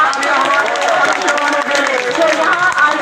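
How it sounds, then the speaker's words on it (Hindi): Crowd clapping and cheering at a Republic Day parade, a dense steady wash of applause from many spectators throughout, with a voice over a loudspeaker talking on top. "शानदार तालियों से इनका स्वागत कीजिए"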